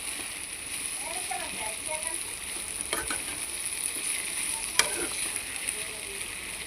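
Bitter gourd pieces frying in a pan hiss with a steady, close sizzle, punctuated by a couple of sharp stirring clinks.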